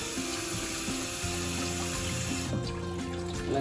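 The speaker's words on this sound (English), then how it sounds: "now I'm ready to rinse the cabbage." Steady running water splashes continuously over cabbage in a strainer, with a brief louder gush near the end.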